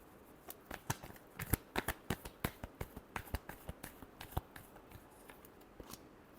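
Tarot cards are shuffled in quick riffling bursts, crisp papery flicks and snaps coming in an irregular rhythm, close and quiet with no talk over them.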